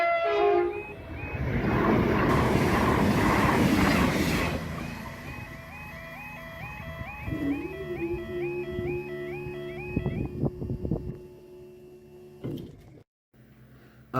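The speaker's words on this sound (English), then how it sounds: "here's a high speed train. I think it's a class 221 Voyager at Yarnton." A Class 221 Voyager high-speed train roars past close by at Yarnton with a loud rush, then wheels clatter over the rails while a warbling tone sweeps up and down, fading out.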